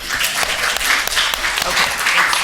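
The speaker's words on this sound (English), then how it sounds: "just clap so that we know that we're all ready to get started?" At a trauma-informed prosecution symposium, an audience claps together in a loud, dense, sustained burst of many hands, steady for a couple of seconds with no talk over it.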